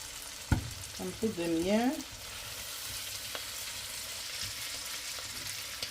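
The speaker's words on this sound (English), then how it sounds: "Now it's time to fry a little bit" Ingredients for fried rice sizzle and are stirred in a pan, a soft steady fry with a sharp clatter and brief scraping clinks early on, while a person speaks briefly.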